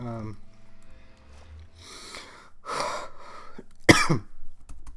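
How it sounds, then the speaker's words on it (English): A person coughs up close, several harsh bursts spread across a few seconds, the last one loudest and sharpest, with faint breathing in between. "Still have the cough."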